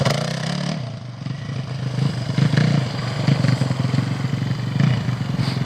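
A 2021 Yamaha WR450F dirt bike rides across soft grass, its engine droning steadily nearby with rising revs and light clattering throughout, and no talk over it.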